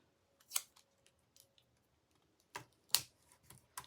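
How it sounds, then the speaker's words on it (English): Strips of tape pulled and pressed down to hold a die in place before die cutting, giving a few short crackling rips and taps at close range, with quiet gaps between them and no talking. "So I'm just gonna get this tape down so it won't move around."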